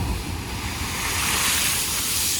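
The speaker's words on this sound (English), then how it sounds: "watching the waves crash against the lava rocks there." Ocean waves crash against lava rocks on a Hawaiian shoreline, a loud, close, continuous roar of surf with wind noise and no voices.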